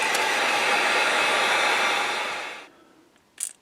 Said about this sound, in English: we're going to take the heat gun and we're going to dry this real well